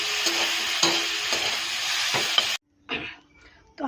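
Chopped ginger and carrot frying slowly in a pan with a little salt, a soft sizzle with a few scraping stirs that cuts out abruptly, followed by brief quieter kitchen clatter.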